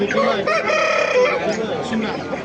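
A rooster crows loudly and close at a busy poultry bazaar in Qo'rg'ontepa, Andijan, one long drawn-out call over dense background chatter and other fowl.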